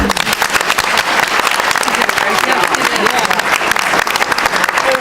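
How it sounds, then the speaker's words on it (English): Loud, dense applause from a forum audience greeting a moderator, continuous and close throughout, with voices mixed in beneath the clapping. "let's give a warm round of applause for a wonderful moderator, Debbie"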